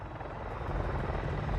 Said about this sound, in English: No, attack chopper.